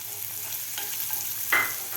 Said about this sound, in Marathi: तर हे सुद्धा आपल्याला व्यवस्थित फ्राय करायचे आहे